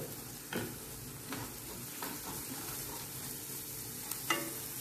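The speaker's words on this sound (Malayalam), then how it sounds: "ഇനി ഇതിൻ്റെ പച്ചമണം മാറുന്നത് വരെ ഒന്ന് ഇളക്കി കൊടുക്കാം." Chili powder fries in a pan while it is stirred, a soft continuous sizzle broken by occasional scraping strokes of a spoon. The sound is quiet and close, with no talking.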